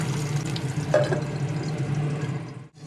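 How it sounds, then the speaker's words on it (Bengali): Salted, turmeric-rubbed hilsa fish pieces frying in oil over a low-medium flame, a steady gentle sizzle with a faint clink near the start, close and without talk. "এই তেলের মধ্যে এখন লবণ হলুদ মেখে রাখা ইলিশ মাছের টুকরো দিয়ে চুলার ফ্লেম লো টু মিডিয়ামে রেখে উল্টে পাল্টে ঢেকে দিয়ে হালকাভাবে ভেজে নেব"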